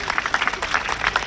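A crowd applauds steadily at a college comedic bharud folk performance, a dense, even wash of clapping from many hands held at one loudness throughout, with no voices standing out.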